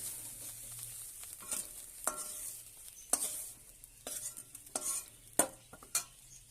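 Hot oil sizzling softly as dried fish fries in a pan, broken by several sharp scraping and stirring clatters of a utensil against metal.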